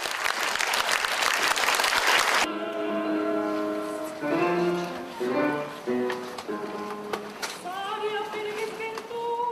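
Concert audience applauding baritone Lee Jae-geun, a loud burst of dense clapping that cuts off abruptly after a couple of seconds, giving way to melodic instrumental music.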